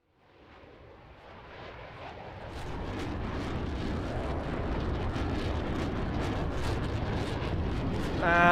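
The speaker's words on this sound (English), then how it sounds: "And it's airborne. Ladies and gentlemen, the F-18 Rhino." An F-18 Rhino jet takes off in the Roblox game, its engine roar swelling steadily from quiet to a loud, sustained broadband rush that keeps building to the end, with no voices.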